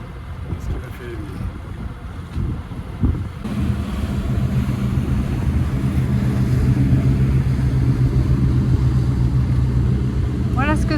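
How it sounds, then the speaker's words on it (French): Steady low motorboat engine drone builds and holds close by as it passes a sailboat, with wind buffeting and water noise throughout. "Voilà ce que ça fait quand un bateau à moteur nous croise."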